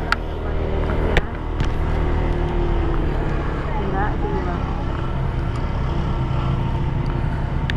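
Motorcycle ride through jammed city traffic in Bukittinggi, West Sumatra, during the Lebaran holiday: a steady loud engine drone with wind buffeting and surrounding vehicles, punctuated by a couple of sharp short clicks near the start.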